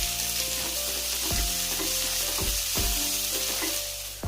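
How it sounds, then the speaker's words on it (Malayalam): Steady crackling sizzle of thinly sliced onions frying crisp and brown in hot oil, with periodic stirring scrapes and clinks of a utensil against the pan. "ഇനി കുറച്ച് സവാള കനം കുറച്ചരിഞ്ഞ് നല്ല ക്രിസ്പായിട്ട് വറുത്തെടുക്കാം"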